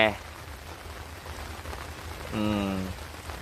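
Heavy rain falls on a tent at a riverside campsite in Dan Chang, Suphan Buri, making a dense, steady hiss throughout, while a voice cuts in briefly at the start and again near the end.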